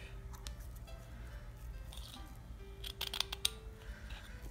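Scissors snip away the surplus ribbon after a bow is tied for a table decoration, a few quick soft cuts clustered near the end against quiet room tone.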